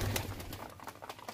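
Pigeons in a rooftop loft coo softly in low, repeated bursts at fairly close range, with faint rustling and no talking.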